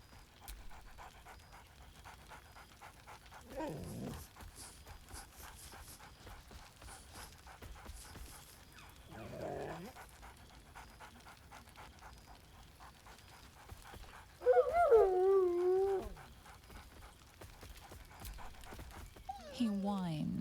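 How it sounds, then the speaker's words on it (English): Scratch the dog in a video game whines and pants, with soft rhythmic panting between several rising, quavering whimpers, one louder and longer near the end. "He whines."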